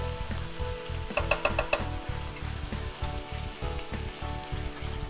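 Sweet port cooks off in a hot pan used for steak Diane, bubbling in a fast, loud sizzle with a regular pulsing rhythm and a few sharper crackles partway through.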